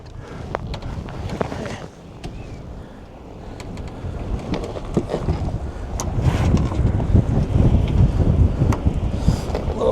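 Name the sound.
gust of wind on a sailboat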